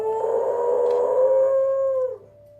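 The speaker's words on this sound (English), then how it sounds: "Dogs will occasionally sing along to music" Buddy Mercury, a dog, lets out a loud sustained howl to piano music, a long wavering tone holding steady for about two seconds before dropping away, leaving a quieter lingering note.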